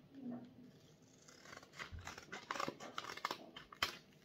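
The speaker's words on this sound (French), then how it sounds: "nous avons un booster Dracofeu de l'extension Star Étincelante à ouvrir" A Pokémon Charizard booster pack from the Shining Star expansion is cut and torn open, giving quiet close crinkling and snipping of the foil wrapper with a few sharp crackles toward the end, faint speech early on.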